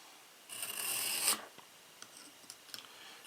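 A kitchen knife blade drawn through a Smith's knife sharpener makes one quiet, raspy scraping stroke, followed by faint clicks and light scrapes.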